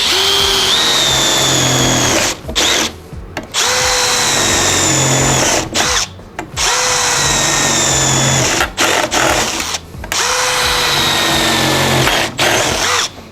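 A Milwaukee M18 CBLPD-422C hammer drill-driver bores through sheet metal in repeated loud bursts, its high whine rising as each hole breaks through, with short pauses between four runs, close and dominant.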